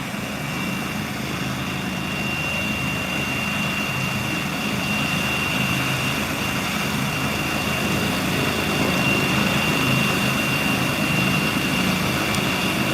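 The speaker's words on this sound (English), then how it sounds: "You can hear the rotors speeding up now." A medical helicopter's rotors spin up before takeoff after receiving a patient in North County San Diego: a steady, dense engine-and-rotor roar that holds constant and swells slightly toward the end, with no voices.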